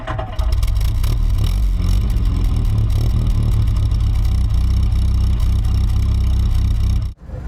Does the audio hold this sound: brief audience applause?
no